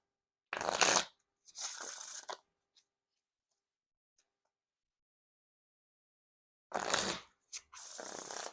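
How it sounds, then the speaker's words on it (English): Two pairs of crisp riffles of Dale Earnhardt NASCAR playing cards, each a quick buzzing burst followed by a softer cascade as the cards bridge back together, separated by silence. "now time for the riffle shuffle or bridge shuffle"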